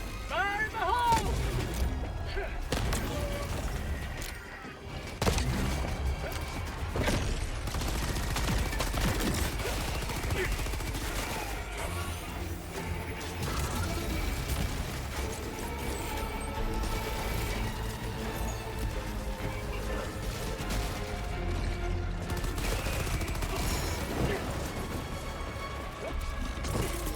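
Gunfire and explosive blasts from the video game Helldivers 2, including a grenade detonation: dense, loud bursts of shots and booms run nearly continuously throughout, with a voice talking over the combat.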